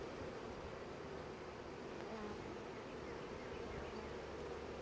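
A swarm of honey bees buzzes in a dense, constant hum that fills the air, steady and unbroken with no voices over it.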